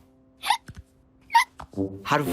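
A cartoon hedgehog gives two quick, squeaky hiccups, each a short sharp gulp, and a voice follows right after.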